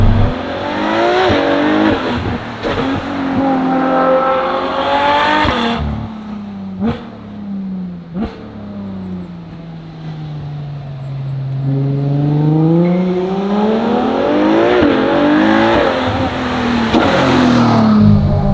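A Ferrari F12 TDF's V12 roars through repeated hard accelerations with rising howls, sharp gearshift breaks and lifts off the throttle, loud and close throughout on a winding road.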